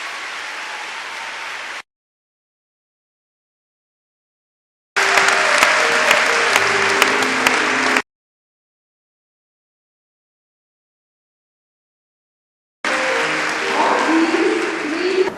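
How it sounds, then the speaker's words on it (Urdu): Audience applauding to welcome Punjab Chief Minister Shahbaz Sharif at Lahore College for Women University, with three bursts of steady, dense clapping separated by silent gaps, loud and close throughout. "بھرپور تالیوں سے ان کا استقبال کریں."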